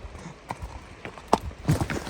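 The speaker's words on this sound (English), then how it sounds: "that was my horse getting scared of one of his own farts while on a vertical slope" A horse on a steep, near-vertical slope shifts suddenly after being startled, giving a few irregular close hoof thuds and scrapes, the last ones loudest.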